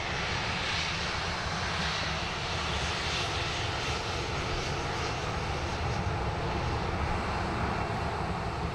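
A British Airways jet airliner roars at Sydney Airport, a steady, broad engine noise heard from a distance and holding a constant level throughout, with no talk.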